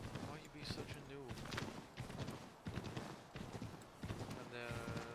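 Horse hooves clip-clop in a steady walking rhythm in Assassin's Creed 3, with someone talking over the game sounds throughout.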